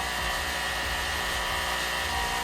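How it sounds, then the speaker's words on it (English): Electric air compressor running steadily to fill a golf cart's air bag suspension, a loud continuous motor drone with broadband hiss, close and unbroken throughout. "Just gonna fill this up real quick and hope that the pressure switch actually works, and it should shut the compressor off"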